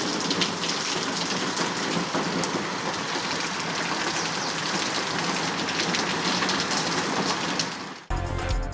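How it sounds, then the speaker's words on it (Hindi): Steady rain falls in Karachi, a dense, close hiss of drops on surfaces that holds constant and then cuts off abruptly near the end, with no voices. "कराची के मुख्तलिफ इलाकों में वक्फे वक्फे से हल्की और तेज बारिश का सिलसिला जारी।"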